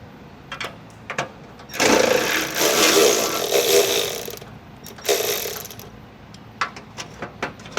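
A ratchet on an extension loosens a fender bolt on a 2017-2023 Tesla Model 3, giving a few light clicks followed by close, buzzing bursts of rapid ratcheting and more scattered clicks.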